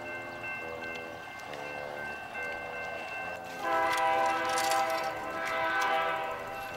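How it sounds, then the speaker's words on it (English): A train approaches along the tracks during a bike ride, its horn sounding in sustained tones that grow louder and fuller as it nears, with rumbling rail noise underneath. "here comes the train"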